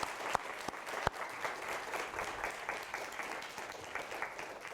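A lecture hall audience applauds the teaching assistants at the end of a course, a steady spread of clapping from many hands with a few sharper claps standing out near the start.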